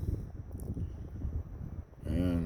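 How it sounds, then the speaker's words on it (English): Strong outdoor wind buffets the microphone in uneven low gusts and rumbles, then a voice comes in near the end. "It's really windy, so bear with."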